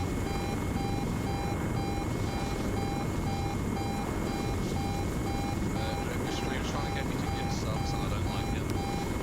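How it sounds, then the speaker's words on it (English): A video game helicopter drones with a steady rotor hum and a repeating high whine, loud and continuous under gameplay. "This chopper doesn't really sound too good"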